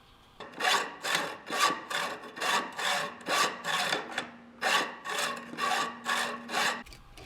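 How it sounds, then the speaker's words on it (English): A hacksaw cuts through an aluminum rod in about a dozen regular back-and-forth strokes, each a raspy scraping burst. The sawing is close and clear, with a short pause partway through. "I'm going to jump downstairs and cut this off using a hacksaw."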